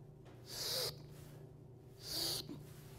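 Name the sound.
breathing in while pushing up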